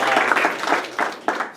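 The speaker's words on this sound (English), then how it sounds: "So you can give yourselves another round of applause for that." Applause from members of a campus club audience at an intro day gathering, a short burst of clapping that fades in and out alongside a speaker's voice.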